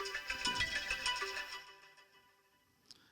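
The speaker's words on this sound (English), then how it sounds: "having my telephone ringing like that" A telephone rings with a busy, tonal electronic ringtone that plays loudly for about a second and a half, then fades to quiet, with a brief faint blip near the end.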